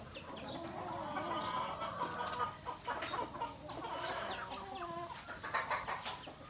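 Chickens cluck and a rooster calls steadily around a farmyard that also keeps turkeys and goats, mixed with chirping birds and outdoor ambience at moderate distance, with no talking.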